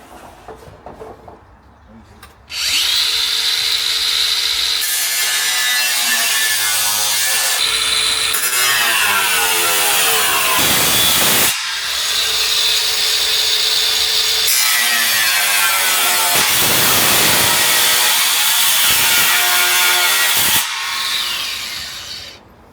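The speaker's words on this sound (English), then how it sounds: "And I'll get this cut. Cordless angle grinder." A cordless angle grinder cuts through material in two long, loud bursts separated by a short pause. It whines harshly close by, rising abruptly from quiet and cutting off sharply, while faint talk is heard briefly at the start.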